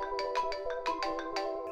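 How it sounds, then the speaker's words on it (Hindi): A phone ringtone for an incoming call chirps in quick repeating bursts over a sustained melodic tone, close and steady for the whole stretch with no voices. "इसी दौरान उसके दोस्त सुशांत ने उसे फ़ोन किया"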